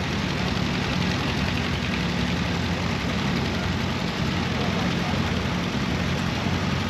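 A 1949 Minneapolis Moline UTU tractor engine idles at an outdoor tractor show, a steady, dense low rumble with a continuous running drone and no clear breaks throughout.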